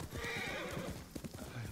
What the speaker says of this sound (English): Let me get the horse real quick here.